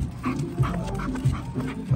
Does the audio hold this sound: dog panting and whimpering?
yes